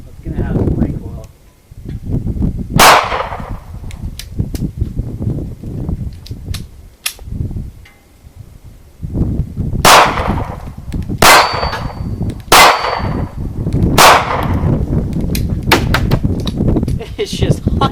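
A tiny Kel-Tec P3AT pistol fires 100-grain FMJ rounds at an outdoor range, sharp cracks spaced out then in a quicker string, close and loud over wind and rustling, with a voice talking in places.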